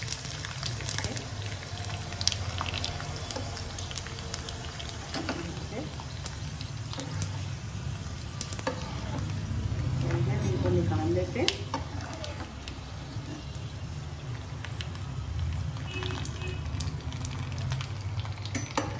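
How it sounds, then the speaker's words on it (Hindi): Sabudana papad sizzling in hot oil, a steady bubbling fry noise lasting throughout with a brief swell in the middle, with a voice speaking over it. "ये देखिए मेरे पापड़ सारे तल गए हैं"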